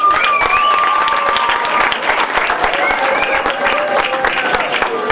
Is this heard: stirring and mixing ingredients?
no